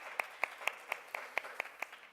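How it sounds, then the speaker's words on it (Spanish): Claps at a bioinformatics workshop session come faint and distant, about nine evenly spaced sharp hits in a steady rhythm, with no voices over them. "entonces démosle un aplauso, por favor"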